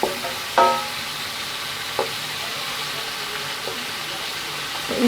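Mutter pieces fry in ginger paste in a pan, giving a gentle steady sizzle broken by a few sharp stirring clicks and scrapes.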